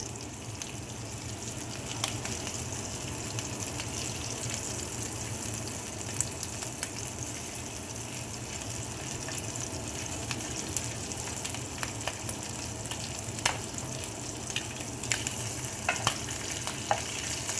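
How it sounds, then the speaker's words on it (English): A stir fry with garlic and ginger crisps in a hot pan, giving a steady close sizzle with scattered pops and crackles and occasional utensil clicks throughout. "So in a second I'm going to take these out of the pan while I do my stir fry"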